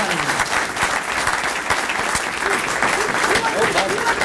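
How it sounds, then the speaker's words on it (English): Audience applause at a chamber of commerce post-legislative luncheon, a steady round of clapping from a seated crowd, moderately loud and continuous for several seconds. "So, can we have a round of applause for our tour"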